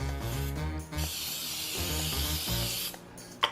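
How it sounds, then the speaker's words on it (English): Short hiss of cooking spray misted over the tops of baked goods in a pan, a steady spray running through most of the few seconds against low background hum, ending with a faint click. "I'm also going to do is going to take some spray and just spray the tops of them"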